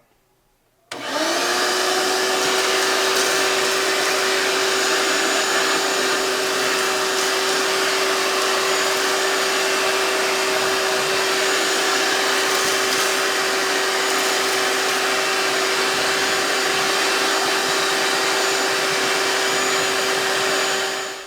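A 12-gallon shop vac with its plain straight hose and no attachment vacuums a car interior. It starts abruptly with a loud, steady whine and roar that holds constant and close for about twenty seconds.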